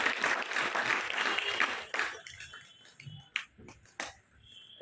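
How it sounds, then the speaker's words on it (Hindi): An audience at a Gita Jayanti event at a government model school in Naugaon claps loudly together for about two seconds, then the applause fades to a few scattered claps. "बजाओ ताली सब लोग"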